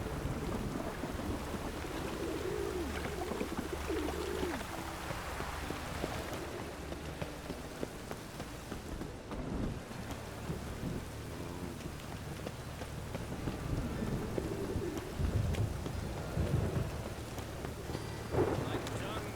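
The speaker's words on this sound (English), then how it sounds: "A storm, damn it." Thunderstorm in The Witcher 3, steady rain pattering across a surface with low rumbles of thunder rolling through, a heavier crack near the middle; some faint speech underneath.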